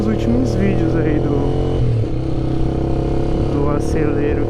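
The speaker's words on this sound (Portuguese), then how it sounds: "esse escape aqui é o que eu tava usando nos últimos vídeos aí" A Honda CBX Twister motorcycle fitted with a Roncar exhaust idles steadily and loudly throughout, with a brief dip in engine tone midway. Someone talks over the engine.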